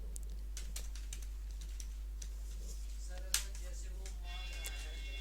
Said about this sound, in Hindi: अब एंटर प्रेस करिए